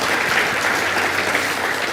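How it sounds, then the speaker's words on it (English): A crowd claps steadily, a dense wash of applause holding at even loudness throughout. "A well-deserved round of applause."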